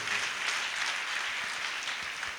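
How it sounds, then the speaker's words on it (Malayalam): A congregation claps together during a Christian retreat sermon, producing dense, steady applause that stays loud and even throughout with no voice over it. "ഒന്ന് കൈയടിച്ച ദൈവത്തിന് മാത്രം കൊടുത്തേ"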